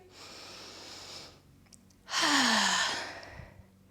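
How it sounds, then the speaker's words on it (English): A deep breath taken while holding a warrior two yoga pose: a long, soft inhale, a quiet pause, then a louder, fuller exhale that fades slowly, with no talking. "Take an extra breath in your warrior two."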